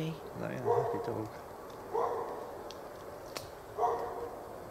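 A hound barks in outdoor woodland at night, three separate short bursts spaced a couple of seconds apart, distant and fairly faint against a quiet background hiss.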